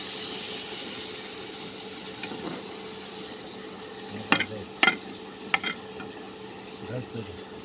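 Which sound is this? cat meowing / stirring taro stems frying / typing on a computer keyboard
stirring taro stems frying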